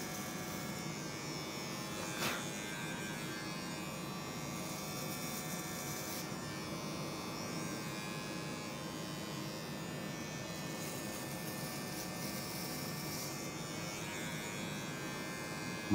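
Electric hair clipper buzzing steadily up close during a layered haircut at a barber training session, a constant motor hum.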